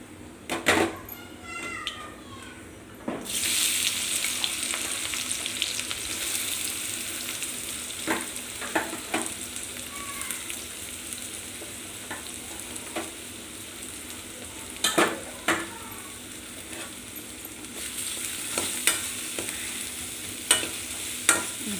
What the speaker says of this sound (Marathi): जिरे टाकते थोडे आणि त्याचबरोबर त्याच्यात कांदा टाकणार आहे